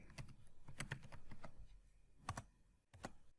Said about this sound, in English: in the JavaScript console, I'll type cities to reference the cities array